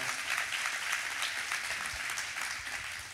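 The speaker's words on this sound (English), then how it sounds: "You give him a big hand clap" An audience claps steadily at a church talk, a continuous, moderately loud wash of many hands lasting a few seconds with no voices over it.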